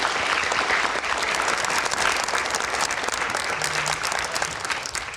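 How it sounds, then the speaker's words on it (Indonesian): An audience at a televised Indonesian political talk show bursts into steady, loud applause, a dense sustained clapping that fills the whole stretch without letting up. "Oke, kita berikan tepuk tangan."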